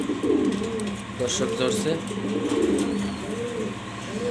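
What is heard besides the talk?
racer pigeon cooing, Andalusian colour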